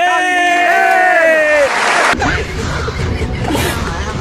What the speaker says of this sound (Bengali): তালি